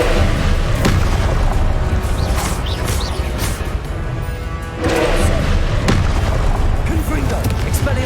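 Confringo blasting spell explosions in Hogwarts Legacy during a boss fight, repeated booming blasts and crashes over a dense, loud battle din with a voice shouting through it.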